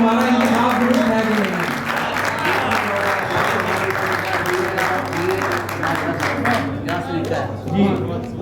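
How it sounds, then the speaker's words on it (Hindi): A dense wash of crowd applause fills a poetry mushaira, loud and sustained with a low steady hum beneath, while voices carry through the clapping. "आपकी तालियां ये तय करेंगी कि हमारा इंतखाब दुरुस्त है"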